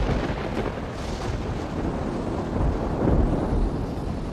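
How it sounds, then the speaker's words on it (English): A thunderstorm over the sea in winter sends a continuous deep rumble of thunder and wind-driven rain, loud and broad throughout, with a heavier roll near the end. "more storms blow in from the south"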